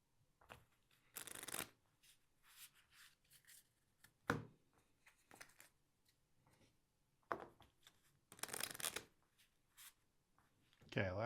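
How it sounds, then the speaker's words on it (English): A deck of playing cards is shuffled during a solo board game session, with several bursts of riffling lasting about a second each, separated by quieter handling and soft murmured talk. "combo deck shuffle here"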